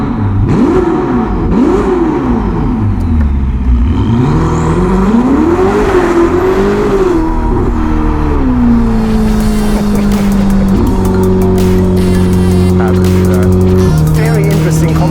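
Ferrari SF90 hybrid supercar with a Novitec exhaust system driving, its engine rising and falling through revs, then settling into a steady drone, loud and close throughout.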